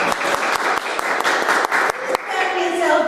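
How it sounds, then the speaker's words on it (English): A small meeting audience at a council on aging gathering claps for outgoing board members: a burst of dense, close applause that tapers off after about two seconds. "So I think we should give all 3 outgoing members a round of applause."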